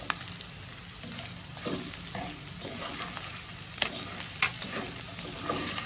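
Ginger, garlic and onion sizzle and fry steadily in a pan with turmeric and salt, with a few light stirring scrapes and clinks.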